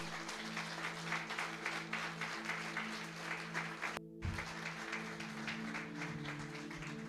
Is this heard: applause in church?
yes